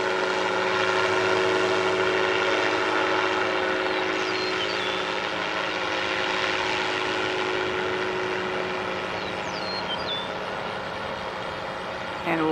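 Top Dog ultralight trike aircraft flying at Cuba, Missouri airport, a steady droning engine hum with a faint tonal whine, fairly close and continuous, under occasional voices.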